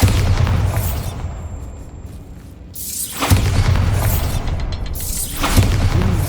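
Loud boom from the Bombarda blasting spell in Hogwarts Legacy, a heavy burst with rumbling decay, followed by a second explosive impact a few seconds later.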